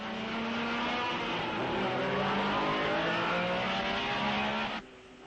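A 1961 Porsche Formula One race car at the Belgian Grand Prix at Spa, its engine howling loud and close at high revs as it passes, then dropping off abruptly near the end.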